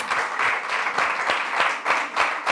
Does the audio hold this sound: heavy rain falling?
no